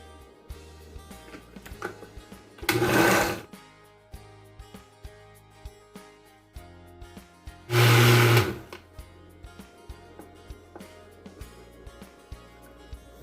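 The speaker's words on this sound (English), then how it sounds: "add a little bit of water to enable the blender to move properly" Two short bursts of a blender whirring loudly as it blends onions with a little water, separated by quieter clattering and handling noises.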